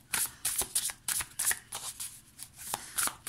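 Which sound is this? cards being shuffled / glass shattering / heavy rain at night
cards being shuffled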